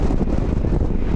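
Strong wind in Kazakhstan roars and rumbles against the microphone in a steady, loud blast with no voices.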